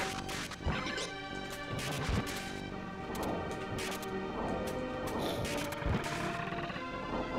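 Crashing hits, whacks and musical stings ring out from the SNES game Super Ghouls 'n Ghosts, a busy run of sharp impacts over a continuous chiptune backdrop, fairly faint throughout.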